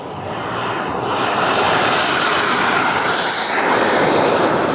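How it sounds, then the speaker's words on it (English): A 1:5 scale BVM L-39 model jet taking off, its turbine roaring loud and close with a high whine, the broadband rush swelling and holding steady. "He does a nice scale takeoff."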